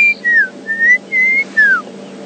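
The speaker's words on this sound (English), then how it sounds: "the brown crowned chagra. No, the black crowned chagra." A black-crowned tchagra gives a series of four or five clear, slurred whistles, each rising or falling, with short gaps between them, against faint background hiss.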